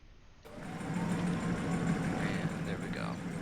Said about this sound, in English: You can hear the engine kind of start on that because that's how we get power